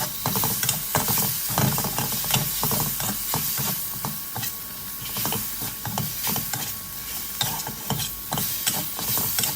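Pork belly stir-fried in a pan with oyster sauce and a little sugar, brisk rhythmic scraping and clattering of the spatula over a constant loud sizzle, close up, with no one speaking.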